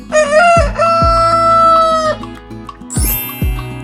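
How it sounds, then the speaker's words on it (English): A domestic rooster crows a long, loud cock-a-doodle-doo close by, followed by a shorter second crow, with no other sounds. "Rooster."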